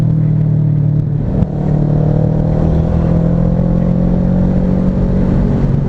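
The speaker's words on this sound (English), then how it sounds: "He's riding a Z1000. which definitely has more acceleration than my bike." Kawasaki Z1000 motorcycle accelerating nearby, a steady mid-pitched engine drone that holds and rises slightly with road noise, no talking.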